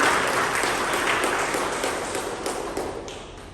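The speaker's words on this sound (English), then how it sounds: "a round of applause to both our evaluators" An audience claps together at a Toastmasters meeting, a steady wash of applause that holds at moderate loudness and slowly fades toward the end.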